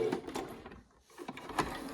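A sewing machine stitching scrappy fabric pieces for a lap quilt, quick faint rattling bursts with a short pause in the middle, fairly quiet and close.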